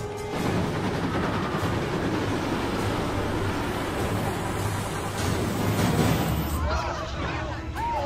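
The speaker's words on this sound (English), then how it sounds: "That's a government train." A heavy, steady rumble and clatter of a steam train in a tunnel fills the space, echoing as if enclosed, with a voice speaking over it near the end.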